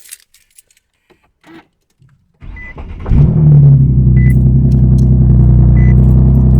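Car engine with downpipes and a resonator delete cranks and fires up after a few quiet key jingles, then settles into a loud, steady, deep idle.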